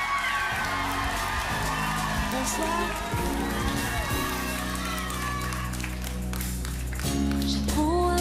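A concert crowd in Paris cheers and applauds for a French pop singer, loud dense clapping and whoops with music and a voice greeting the audience over it.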